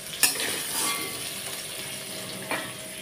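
Soybean chunks sizzle in hot oil in a kadai, a steady close hiss of frying with a couple of light metallic clinks from stirring, and no talking.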